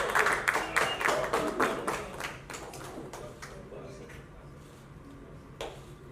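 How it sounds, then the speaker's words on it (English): A studio audience applauds for Chris Gayle, with a burst of claps at the start that quickly thins into light scattered clapping amid room noise. "Can we have a huge round of applause?"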